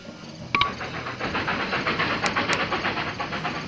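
A small German 0-6-0 steam locomotive in Railroad Tycoon 3 runs with steady rhythmic chuffing and hiss. A brief whistle-like tone sounds near the start, and the chuffing stays even and moderately loud throughout.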